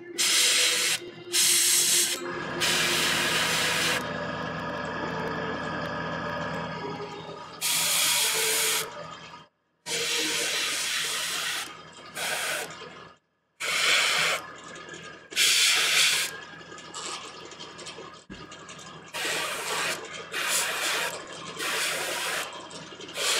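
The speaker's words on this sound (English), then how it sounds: "just do quick base coats with the airbrush" An airbrush sprays base coats onto a Warhammer 40K Magnus the Red miniature in bursts of close, airy hiss, some short and some several seconds long, separated by brief pauses.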